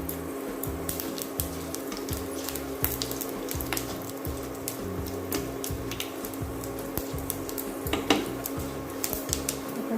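Two chillies fry in a pan, with steady soft sizzling and crackling alongside occasional light clinks of a utensil against the pan.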